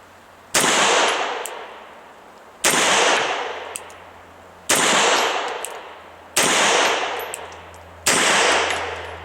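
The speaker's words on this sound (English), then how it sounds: "I'm going to shoot 5 rounds single action only" A Beretta Elite II 9mm pistol fires five single-action shots, each a loud, sharp crack with a decaying ring, spaced about two seconds apart and evenly paced.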